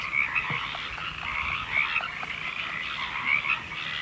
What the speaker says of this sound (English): The frogs at the pond are so loud.